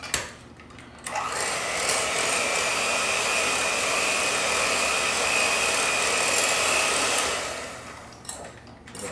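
An electric hand mixer churns mashed potatoes on low speed, a steady close whirring drone that starts after a second, holds evenly for about six seconds, then winds down.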